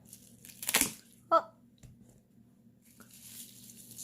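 Prickly wild lettuce is cut, giving a short squishy tearing snip and a crisp rustle of leaves, close and quiet against a low background hum.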